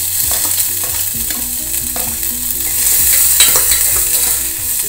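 Onions and spices fry in sesame oil in a pan, a loud steady sizzle with occasional stirring scrapes and clinks, close up with no voices.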